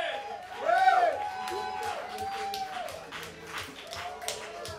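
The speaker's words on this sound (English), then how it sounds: "How about a round of applause for Mark Zims on the guitar?" Audience applause for guitarist Mark Zims at a bar gig in Hines: scattered clapping and crowd noise, moderately loud at first, then tapering into lighter claps and chatter.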